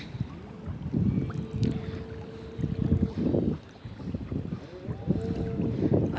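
Boats out on the water at Al Mamzar beach, a rumbling engine drone swelling and fading in waves under gusty wind noise, fairly close and steady, with no talk.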